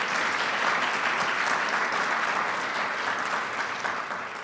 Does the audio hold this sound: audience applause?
yes